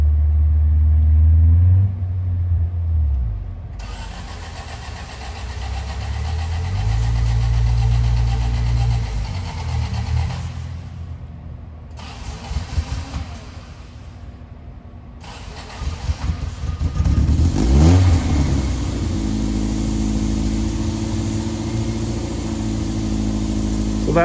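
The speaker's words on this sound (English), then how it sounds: "we're going to see what comes out of the tailpipe and how easy it is to start this car" A 1970 Lancia Fulvia 1.3S Sport Zagato engine on full choke cranks, catches and roars to life, revving loudly and unevenly, dropping to a rough idle before revving up again near the end.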